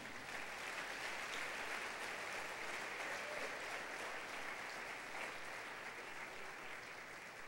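A church congregation applauding during a Spanish-language worship service, a steady, even wash of clapping that holds at a low, distant level throughout with no break.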